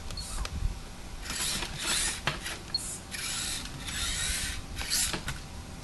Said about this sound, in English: It's got a brushless motor in it.